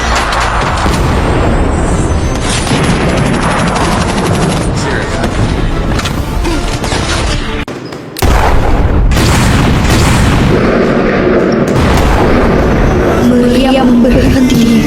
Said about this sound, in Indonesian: Meriam berhenti menggelegar.